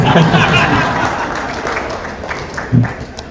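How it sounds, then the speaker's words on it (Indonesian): Audience clapping during a political speech at an Indonesian movement gathering, a steady crowd applause with light chuckles and brief voices mixed in, fading slightly over the short stretch. "Tepuk tangan sekali lagi sama yang bantu bikinin."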